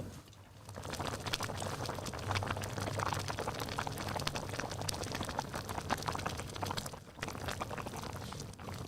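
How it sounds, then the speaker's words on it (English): Hot pot broth at a lunar new year lunch, bubbling and simmering in a dense, steady wash of small pops and gurgles, close and fairly constant throughout. "We'll submit that sound of the bubbling to a sound library in the future."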